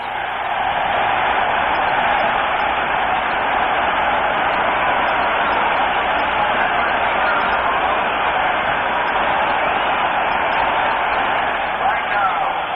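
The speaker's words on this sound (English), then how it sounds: "he gets a well-deserved round of applause as he leaves the playing field." A large stadium crowd at the 1957 NFL Championship applauds and cheers continuously, a broad wash of clapping from a distance heard through an old, narrow-sounding broadcast.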